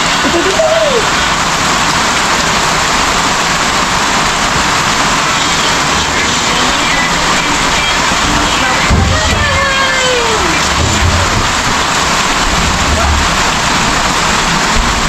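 Steady, loud rain pours down continuously, a dense hiss with faint chirps and a brief rumble midway, no voices standing out.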